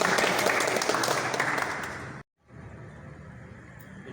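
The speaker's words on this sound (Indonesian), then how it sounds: "Ya, kasih aplaus." Applause from an audience at the close of an Indonesian journalists' association gathering, a dense steady clapping that cuts off abruptly midway, then a quieter room murmur with softer scattered claps building again.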